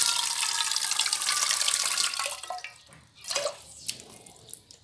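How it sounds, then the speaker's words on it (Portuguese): Water runs steadily into a pot of rice for a couple of seconds, then stops, leaving scattered drips and small clinks. "vou colocar um pouquinho d'água nela"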